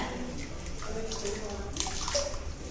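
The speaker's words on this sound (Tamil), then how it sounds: "நம்ம புளிக்கு பாத்திரத்துக்கு தண்ணி ஊற்றிக்கலாம் இல்லையா" Water runs and splashes into a pot for tamarind rasam for a few seconds, with faint voices in the background.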